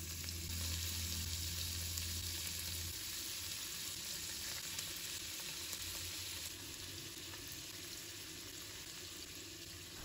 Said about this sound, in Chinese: 倒入适量的食用油，油热之后，把排骨一块一块的放入锅中